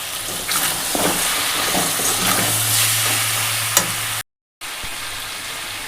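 Chicken sizzles in a pan with cumin and coriander powder while being stirred, a loud continuous frying hiss with occasional scraping, broken by a brief cut of silence.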